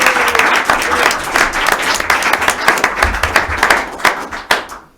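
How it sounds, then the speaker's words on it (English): An audience at a local song swap gives a warm round of applause for a performer named Karen, near and loud at first, then thinning into scattered individual claps before stopping. "Can we have a big round of applause for Karen?"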